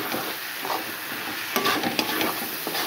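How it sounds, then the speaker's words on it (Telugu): Chicken frying in a pan with pepper, garlic, green chilli and curry leaf powder, a steady close hiss of sizzling broken by a few stirring scrapes, with no talk. "అది వేసుకొని మనం బాగా ఫ్రై చేయాలి"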